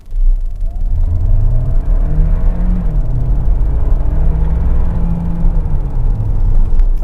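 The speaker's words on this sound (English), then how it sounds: "Not only does it have pep, it has quite a nice sound in sport as well." A Hyundai Santa Fe PHEV with a 1.6-liter turbocharged engine and electric boost accelerates hard in sport mode, its engine note climbing through rising gears over a loud, steady cabin rumble, with no talking.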